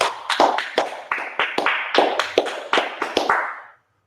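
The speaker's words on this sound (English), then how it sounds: "All right, let's clap it up" A group at an evening brotherhood class claps together, about a dozen crisp, closely spaced hand claps in a steady burst, loud and near, stopping abruptly with no voices over it.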